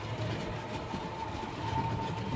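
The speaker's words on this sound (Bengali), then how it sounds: "এসে গেছি স্টেশনে, এখন ট্রেন ধরবো। সামনে আছে নৈহাটি লোকাল" A suburban train rumbles at a railway station near Barrackpore, a continuous low rolling drone with a steady hum, moderately loud and without talk.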